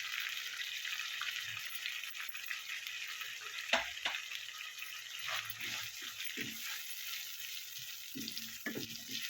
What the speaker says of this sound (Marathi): हे लाल तिखट मी परतून घेतलेलं आहे।